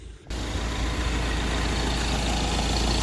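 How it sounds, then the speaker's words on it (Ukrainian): The 2.2 TDCi diesel engine of a 2016 Ford Transit van idles steadily with a low, even rumble after a brief quiet start, running alone without talk. "Давайте я вам зразу дам послухати, як працює двигун"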